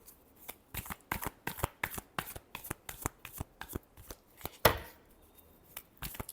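A deck of tarot cards is shuffled steadily and close by, with a rapid, regular patter of riffling slaps and one sharper snap near the end, and no talking over it.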